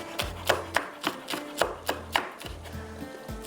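Fresh coriander and red chilli are chopped on a board with a knife in quick, evenly spaced thuds, about a dozen close, crisp strokes in a steady rhythm with no talking.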